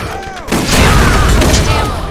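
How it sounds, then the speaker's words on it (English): A car blows up in the video game Borderlands: a sudden loud blast after a brief quieter stretch, followed by a sustained roaring, crackling rumble that carries on to the end. "Oh, our car just blew up."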